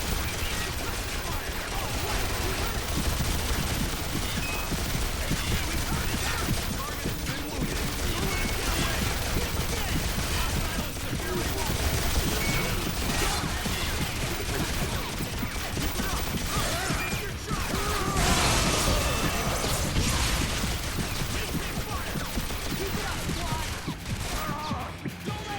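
Dense, continuous gunfire from the 2009 video game X-Men Origins: Wolverine, loud rapid bursts mixed with crashes and clanks that keep going without pause.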